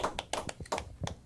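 A single person claps by hand in a quick, slightly uneven run of about eight sharp claps, close-up and fairly quiet.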